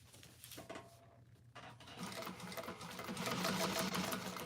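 Sewing machine stitching a bag lining, a steady rapid mechanical whirr that runs continuously and builds louder toward the end, with no talking.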